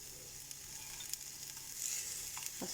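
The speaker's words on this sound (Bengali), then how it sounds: "আমি কাঁচামরিচ রেও ফ্রাই করুন, পুরা লাগান করুন, রসুন দিয়ে পুরা লাগান আছে" Green chillies and garlic frying in a pan for Sylheti sidol shutki vorta, a steady soft sizzle throughout with a few faint clicks of a utensil and a slightly louder burst near the end.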